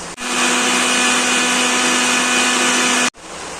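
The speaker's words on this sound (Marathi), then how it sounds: "कच्चे तांदूळ मिक्सरला लावून त्याची आता मी पिठी बनवणार आहे।" Mixer grinder running at full speed grinding raw rice with an equal amount of water into flour, a loud steady whirring whine with a high motor tone that runs unbroken for about three seconds before cutting off abruptly.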